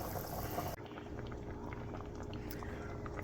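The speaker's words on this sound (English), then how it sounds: "So this is boiling pretty good." A pot of green beans and potatoes boils on the stove with a soft, steady bubbling and rolling simmer. It is faint and close, with no talk over it.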